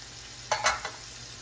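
Meat cooks in an iron skillet with a quiet steady sizzle, and a few short bursts of sputter and stirring come close together in the middle.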